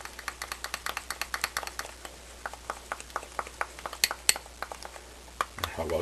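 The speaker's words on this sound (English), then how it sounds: "take about 1/4 teaspoon of vegetable shortening and put that in there and stir it around" Vegetable shortening stirred into melted chocolate for thin mint truffles, a utensil clinking steadily against the bowl in a quick run of close, sharp taps with short pauses.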